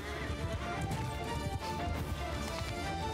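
Horse hooves gallop in a Mount & Blade II: Bannerlord battle, a dense continuous clatter of many hoofbeats amid the rumbling din of cavalry and fighting, steady and loud throughout.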